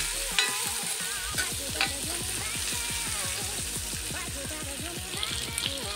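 Chopped onions and a pinch of asafoetida frying in a pan, stirred in quick repeated scrapes over a steady sizzle, close and moderately loud, with no voices.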